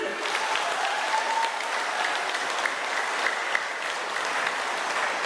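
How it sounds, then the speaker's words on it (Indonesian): Steady, dense applause from an audience at a regional forum meeting of indigenous women in Boven Digoel, a continuous wash of many hands clapping at even loudness with faint voices mixed in. "Tepuk tangan dulu."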